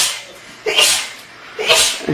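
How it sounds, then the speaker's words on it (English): Two strong sneezes from a woman, each a sharp explosive burst after a brief inhale, close and loud with a short pause between them. "It's like over 50 sneezes in a row."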